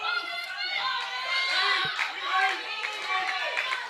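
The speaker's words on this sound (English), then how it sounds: "But the crowd getting behind Bobby Buffet." A wrestling crowd cheers and claps for Bobby Buffet at a live indoor match, a steady roar of shouts and applause rising and falling, with a commentator talking over it.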